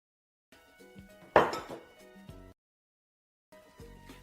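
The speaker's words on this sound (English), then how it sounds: "the flour is slowly, gently, and thoroughly mixed in" Flour stirred into corn fritter batter in a bowl, heard as utensil clinks and scrapes against the bowl, with one sharp louder knock partway through and a short pause before the stirring resumes.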